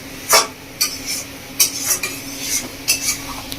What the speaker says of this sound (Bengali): কড়াইতে দিয়ে মশলাটা খুব ভালো করে কষিয়ে নেব।